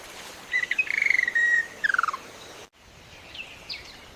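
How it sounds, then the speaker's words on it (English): A keel-billed toucan calls in Costa Rica, giving a rapid series of bright, chirping notes, then a shorter burst, fairly close and clear over quiet background. "Toucan! Right there! I see it!"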